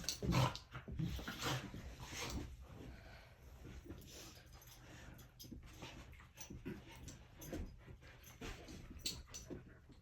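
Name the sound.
dog barking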